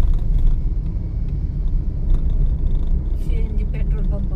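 Congested road traffic in Panvel, with a low continuous engine rumble from cars and heavy vehicles close by and a brief hiss like an air brake, under someone talking.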